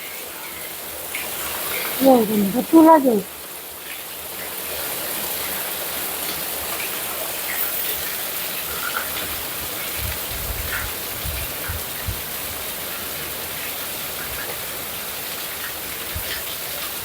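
Heavy rain in a village, a steady broadband hiss of downpour beating on surfaces and running water, with someone speaking briefly near the start and the rain continuing unbroken.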